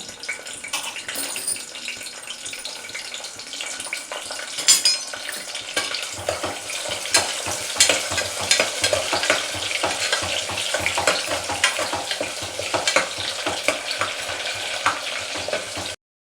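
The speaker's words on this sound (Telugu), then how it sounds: "అవి కొద్దిగా వేగేదాకా దాంట్లో ఆనియన్ తరిగి పెట్టుకున్న ఆనియన్ వేసుకున్నాము" Chopped onions fry in hot oil with cumin seeds, bay leaf and cinnamon in a tempering for country chicken curry, giving a steady, close sizzle with occasional stirring scrapes throughout.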